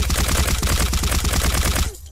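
Rapid automatic gunfire from a scoped rifle in an indie Fallout-style video game, a fast steady string of close, loud shots that cuts off abruptly near the end.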